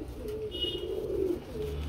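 A pigeon, spoken of as a female bird, cooing nearby with a low, soft, rolling warble over faint background noise, lasting under two seconds.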